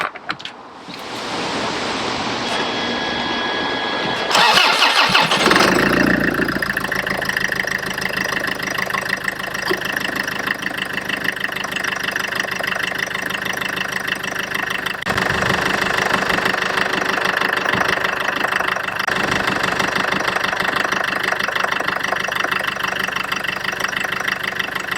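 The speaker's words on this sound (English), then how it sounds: "I'm going to start the engine and see if it runs okay" A Land Rover Freelander 2 engine cranks and fires after a few quiet seconds of workshop noise, then settles into a steady, loud close idle, fitted with a catch can.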